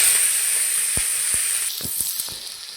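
Onion and green chilli frying in hot oil, a close hissing sizzle with several sharp taps and scrapes of a spatula against the pan.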